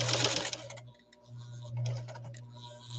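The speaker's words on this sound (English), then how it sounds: "I'll leave the music off right now just so you can listen to this machine run." A 1949 German-made New Home Greyhound Model K sewing machine runs close by with a steady motor hum and rapid rhythmic needle clatter, briefly slowing near the one-second mark before resuming, with no voices.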